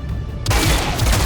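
Gunfire in XCOM: Chimera Squad, a quiet start then a sudden loud burst of dense, rattling shots that fills the rest of the brief moment.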